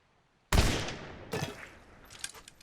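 Two musket rifle shots ring out in the pirate game Blazing Sails, a loud close blast followed about a second later by a second report, each trailing off into a fading echo.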